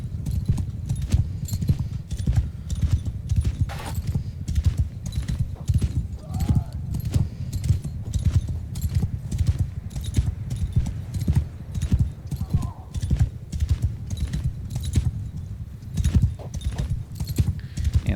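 Hooves pound in a fast, continuous rhythm as a horse gallops across a battlefield in Bannerlord, loud and close, with faint crowd noise and an occasional voice beneath.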